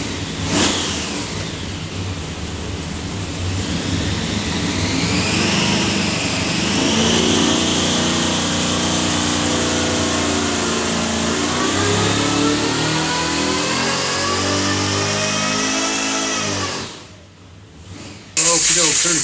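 A supercharged 572ci big block Hemi bound for a 1970 Challenger roars through a full dyno pull, climbing steadily in pitch over about fifteen seconds, loud and close, then dropping off sharply before a brief burst near the end.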